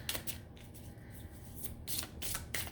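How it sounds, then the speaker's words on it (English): A tarot deck being shuffled by hand, with soft papery riffles and brisk bursts of card rustle repeating close up over a quiet room. "we're gonna shuffle"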